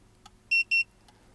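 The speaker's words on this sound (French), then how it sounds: "on a eu un double bip qui signifie que le boîtier est en mode reset" A Windor alarm box gives two short, loud, high electronic beeps in quick succession as it enters reset mode, framed by faint clicks in a quiet room.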